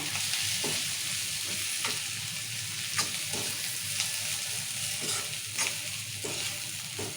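Chana dal curry with chili powder and salt being stirred in a pan, with a steady sizzle throughout and regular scraping strokes of the spoon against the metal, close and fairly loud, no voices.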